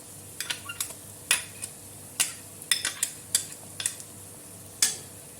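Clinks and scrapes of a spoon on a pan as ginger-garlic paste is added and stirred in while cooking chicken biryani, a series of short sharp metallic knocks with a faint background sizzle.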